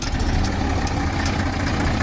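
A farm tractor driven by small children idles close by, a loud, unbroken low engine drone with a faint rhythmic vibration throughout.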